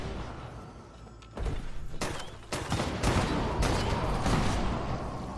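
Bursts of gunfire and heavy impacts from a Fallout 76 firefight, loud and dense, with shots clustering and repeating over several seconds and no talk over them.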